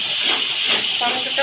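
Blended tomato paste hits hot oil after fried ginger and green chilli paste, setting off a loud, steady close hiss that fills the moment.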